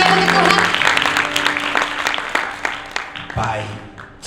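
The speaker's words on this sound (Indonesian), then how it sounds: "Boleh berikan tepuk tangan yang terbaik untuk Tuhan." Applause from a youth conference congregation at a church gathering, dense clapping that fades gradually with scattered louder claps near the end, with speech and some tonal sound underneath.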